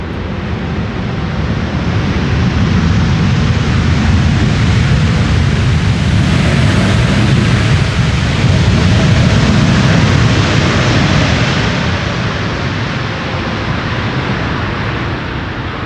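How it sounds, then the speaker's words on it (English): A KLM Boeing 747 arriving from Lima lands at Amsterdam Schiphol and runs its thrust reversers, giving a loud, broad, sustained jet roar that swells and fades slowly with no voices. "KLM flight 744 arriving from Lima in Peru using the reversers"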